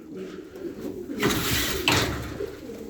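Pigeons of a competition flock coo softly in a loose sequence of low calls, with faint background noise and light voices.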